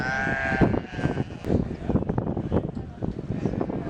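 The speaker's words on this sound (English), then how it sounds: "Commercial sheep breed." Sheep of a commercial breed bleat at the Great Yorkshire Show, a wavering cry standing out at the start over a dense, busy backdrop of crowd noise and wind rumble.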